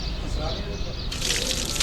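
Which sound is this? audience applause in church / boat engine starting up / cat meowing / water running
water running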